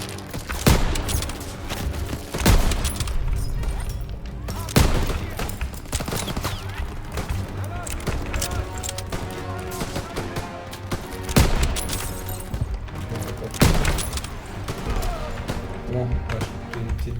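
Bursts of rapid machine gun fire and other gunfire in the World War II shooter Call of Duty WWII, loud and repeated through the clip, with sharp cracks standing out and a player speaking French over the shooting.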